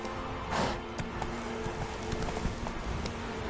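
A horse gallops in The Witcher 3: Wild Hunt, quick rhythmic hoof clops with a brief louder rush near the start, close and steady under faint background ambience.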